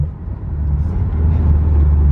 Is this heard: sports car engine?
yes